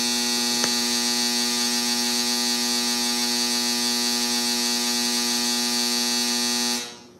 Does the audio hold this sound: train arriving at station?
no